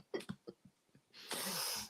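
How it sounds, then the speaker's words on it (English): A man gives a dry cough during a casual talk about building a Halloween haunt: a few short, sharp bursts close to the mic, then a longer rough, breathy exhalation to finish. "Dry cough."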